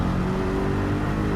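A Corvette C8 race car in Gran Turismo 7 holds a steady, loud engine drone with constant tonal hum, a sustained run at even pace with no talk over it.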